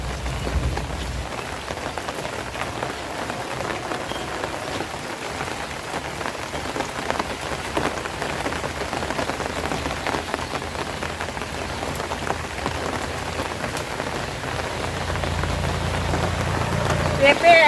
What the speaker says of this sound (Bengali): বৃষ্টিও নামছে দূরে সরে